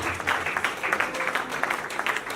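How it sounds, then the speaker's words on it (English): Resounding applause from an audience at a Nigerian public lecture or gathering honouring the Aare Onakakanfo, a steady dense patter of clapping that stays loud and even throughout. "resounding applause"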